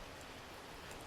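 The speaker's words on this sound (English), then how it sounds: "It's really raining now" Steady, hissing downpour of rain in the survival game Cataclysm: Dark Days Ahead, a dense even wash of noise with no distinct drops, faint and unbroken throughout.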